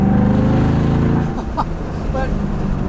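A 2014 Shelby GT500's engine and exhaust give a deep, loud, throbbing rumble up close that eases after the first second into a rougher, lower idle-like burble, with a voice speaking over it.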